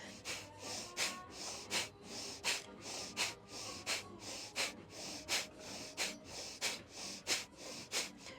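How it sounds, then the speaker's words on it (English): Rhythmic nasal breathing, in and out through the nose, during a Himalayan kriya somatic practice: about a dozen sharp, snort-like breaths repeat steadily and close at hand, with no talking over them. "keep breathing in through the nose, out through the nose"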